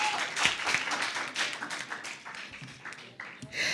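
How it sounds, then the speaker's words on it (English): Audience applause for a student speaker at a secondary school debate round, a dense patter of clapping hands that swells and dips across the room, with a brief fuller burst near the end. "Round of applause for Anya Hall"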